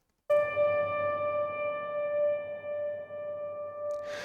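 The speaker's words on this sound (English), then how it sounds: "So many trailers start off with a ping like that" A dark, breathing cinematic ping of the kind that opens trailers, from the Sound Yeti sample library, strikes once and holds as a steady pure tone with a soft airy texture beneath it. It swells gently and sustains for several seconds.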